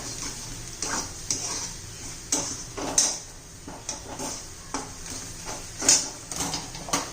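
A spoon scrapes and stirs turmeric and coriander powder in a pan for bhindi masala. The strokes come in a steady, repeated rhythm, with light clinks against the metal, close and moderately loud, and no voices.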